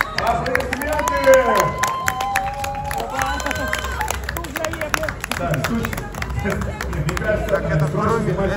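Festival crowd clapping during an award ceremony, a loose mix of claps and murmuring with people talking and calling out over it throughout.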